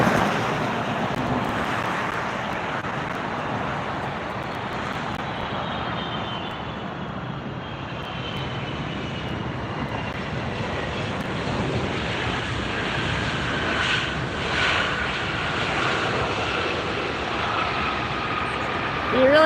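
A Delta airliner at LAX passes at a distance, a broad steady jet roar that swells slightly toward the end, with occasional faint talk over it.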